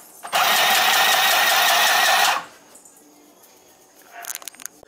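A mini portable sewing machine stitches cloth in a steady buzzing whir for about two seconds and then stops abruptly, followed by faint handling clicks close by.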